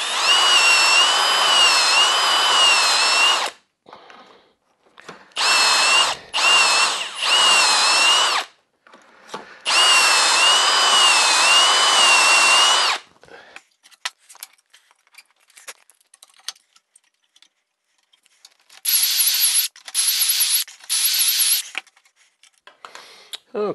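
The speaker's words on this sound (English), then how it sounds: "To drill the vertical holes, I put the piece of wood in the vise." A power drill bores vertical holes in a piece of wood clamped in a vise for a shelf, whining loud and near in several long bursts separated by quiet pauses, ending with a few short triggers.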